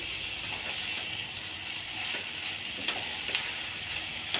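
Masala frying in a pan for ivy gourd curry, a steady close sizzle with occasional soft scraping clicks from stirring, no voices.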